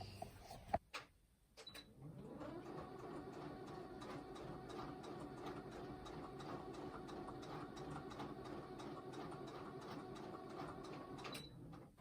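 Sewing machine stitching across marked corners of bag lining fabric, a steady quiet mechanical whirr lasting about ten seconds after a couple of handling clicks, close and faint.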